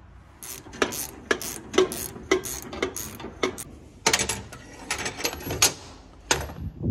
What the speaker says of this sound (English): take a gear wrench and run that up high enough until you can get onto it with your deep well